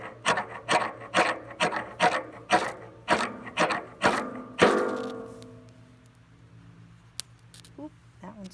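A ferrocerium rod is scraped hard about nine times in a steady rhythm to light pure rubbing alcohol, each rasping strike close and loud, followed by a quieter low hiss as the flame catches.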